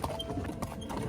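A stallion's hooves clip-clop steadily on hard ground during training in a local area, close and continuous with no talking.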